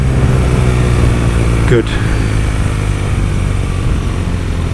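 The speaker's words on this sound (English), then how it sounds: "Compression with this boxer motor for braking is stunning as well." A BMW R nineT Racer boxer-twin motorcycle engine runs steady and loud while engine braking, with a brief blip partway through and someone talking over the drone.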